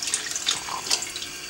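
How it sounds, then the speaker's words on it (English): Water splashes steadily into a pot from a tap as twelve cups are added to cook soaked channa, a close, continuous hiss and gurgle with no talking. "In a pot, add 12 cups of water"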